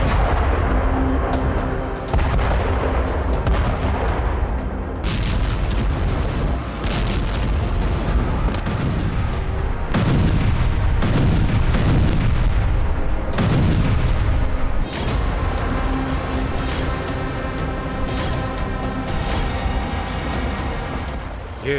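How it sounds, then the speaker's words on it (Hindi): Heavy explosions from Israeli 2000-pound bombs in Gaza's Jabalia camp, with several deep, powerful booms and rumbling blasts landing one after another, some sudden and loud, with voices faintly present at times. "ये इजराइल के सिर्फ एक बम का दम था जिसने गाजा शहर से 4 किलोमीटर उत्तर जबालिया कैंप में 45 फीट का गड्ढा बना दिया।"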